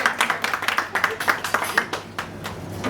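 Applause at a business dinner meeting: a few people clapping in an uneven, loose rhythm close by, thinning out and fading toward the end.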